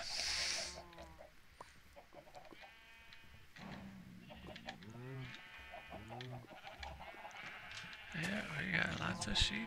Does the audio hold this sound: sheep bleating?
yes